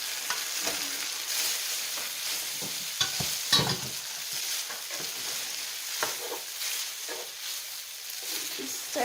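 Pasta being stirred into sausage and tomatoes in a hot pan, a continuous close sizzle broken by scattered scraping and clattering strokes of the spoon at an uneven pace.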